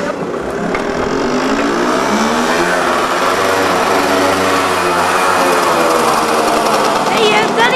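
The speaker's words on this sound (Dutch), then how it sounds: "Danny brengt me even thuis op zijn brommer." A moped engine runs steadily at close range, a buzzing high-revving drone that holds throughout with a slight pitch wobble, while people talk over it.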